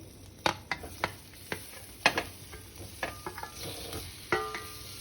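Paneer cubes being stirred into masala in a hot pan: a string of soft scraping stirs at an uneven pace, close by, with a faint sizzle underneath and no talking.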